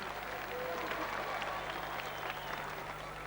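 A crowd at the 1993 World's Strongest Man competition applauds a competitor's brave but slow effort, with steady, moderately distant clapping throughout and a commentator talking over it.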